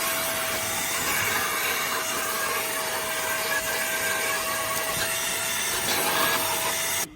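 A Seesii cordless handheld vacuum, a small shop vac, runs on its high speed setting with a steady, loud whirring roar and a constant whine throughout, with no talking.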